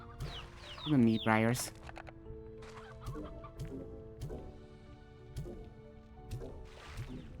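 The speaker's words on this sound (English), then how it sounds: "Whoa, chickens." Chickens cluck in the video game Slime Rancher 2, a short burst of clucking rising early, then scattered softer clucks and game sounds under someone talking.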